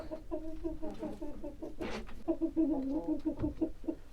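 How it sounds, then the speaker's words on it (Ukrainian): A Bielefelder hen from a breeding flock clucks repeatedly and close up while being weighed, giving a steady run of short, throaty, tonal clucks with a few louder squawks. "Це наша курочка від нашого племені."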